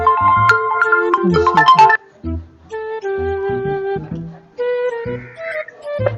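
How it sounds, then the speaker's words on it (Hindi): An incoming call plays a mobile phone ringtone as a loud, close electronic melody of bright tonal notes. The tune runs in phrases, with a short break about two seconds in before it continues. "ये यासिर भाई की कॉल है।"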